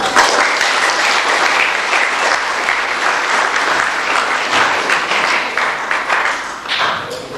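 Wedding guests at a church ceremony break into loud, sustained applause, a dense, even wash of clapping filling the whole moment with no talk over it.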